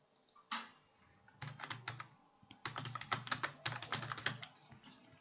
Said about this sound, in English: If I type it again, it will follow the same pattern.